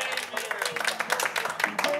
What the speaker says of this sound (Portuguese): Uma salva de palmas aí, pessoal!